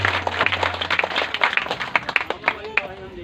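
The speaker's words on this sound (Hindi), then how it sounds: "जोरदार ताली बजाओ" Audience clapping loudly at a Christian testimony gathering, a busy stretch of individual claps with clear separate hits over a crowd, some voices mixed in.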